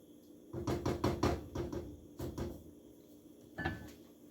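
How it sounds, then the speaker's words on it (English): A pot of white beans with carrots, cabbage, meat, chouriço and parsley being stirred, giving a run of close knocks and clunks of utensil against pot, then a pause and one last knock. "Okay, let's stir."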